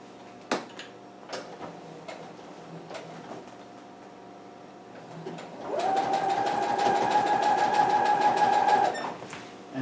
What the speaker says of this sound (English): We're going to place that underneath the sewing machine, under the foot, and we're going to do the exact same stitch